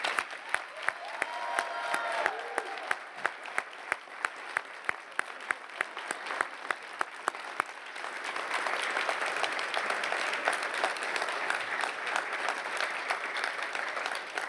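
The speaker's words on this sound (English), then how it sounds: "I invite parents, family members, friends, faculty, staff, and trustees to join me in applauding these graduates as they rise to their feet" A large audience at a college commencement claps for the graduates, sustained loud applause that begins with crisp individual claps and thickens into a dense, even roar that keeps going.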